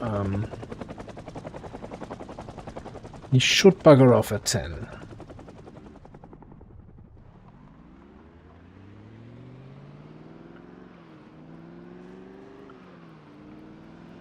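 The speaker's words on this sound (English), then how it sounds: "I'm fairly certain 4 hours is the most that the helicopter can stay" A helicopter in Project Zomboid drones at a steady low pitch while someone talks over it. Several sharp gunshot-like bursts cut through midway, then the rotor sound fades and returns as a rising, shifting hum.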